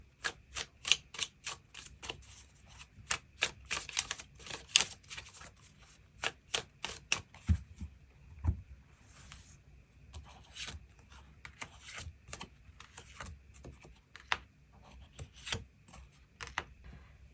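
Tarot cards are shuffled and drawn in a long run of quick riffling snaps and light slaps, close and crisp, with occasional soft thumps and brief pauses between bursts.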